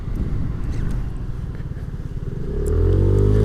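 A SYM Cruisym scooter engine drones close by on the road, its low rumble building as the throttle opens fully and the pitch rises into a louder sustained whine near the end.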